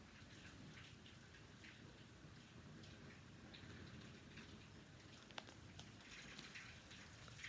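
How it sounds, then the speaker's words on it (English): Rain falls outside, a faint, steady patter and hiss heard from indoors, with a few louder drops standing out. "but it's raining outside right now."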